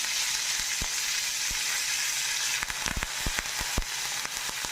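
Mustard seeds and curry leaves fry in hot oil for a bitter gourd sambar, giving a continuous sizzle with sharp popping crackles that grow more frequent toward the end, close by and with no talking.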